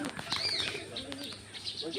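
Pigeons coo and flutter close by at a Bohol wildlife sanctuary, soft low calls and wingbeats mixed with chirps while people talk nearby.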